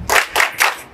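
Students on a school excursion clap in unison, three sharp group claps in a steady rhythm, loud and close, with no talking.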